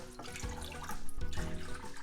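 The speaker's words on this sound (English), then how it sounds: "in a pot, I'm going to put in 2 cups of water." Two cups of water poured into a cooking pot for miso soup splash and gurgle faintly in a home kitchen, a soft continuous trickle with small clunks and no talking.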